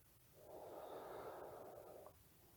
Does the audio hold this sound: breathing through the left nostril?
yes